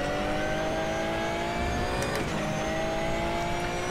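A Ruf RT12R race car in the RaceRoom Racing Experience game at the Nurburgring GP circuit, its engine droning loudly with steady high-revving harmonics and a brief sweep around the middle as it passes the trackside camera.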